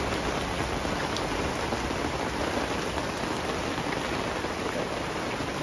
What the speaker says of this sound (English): Nothing like camping in the rain.